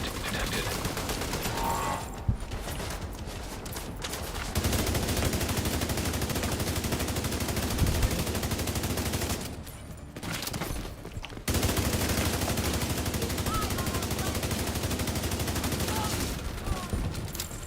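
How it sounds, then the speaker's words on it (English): Rogue assault turret in The Division 2 firing sustained bursts of automatic gunfire, loud and dense, broken by a few short pauses amid game noise. "Rogue assault turret detected."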